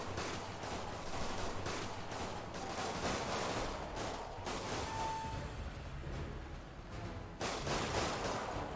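Spider-Man video game combat: a dense, steady barrage of gunfire from armed shooters rattles on for several seconds, loud and continuous with brief bursts and swells.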